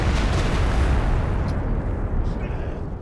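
An artillery barrage in Company of Heroes 2 pounds a group of Pyros, a heavy, loud, continuous rumble of blasts that slowly fades toward the end.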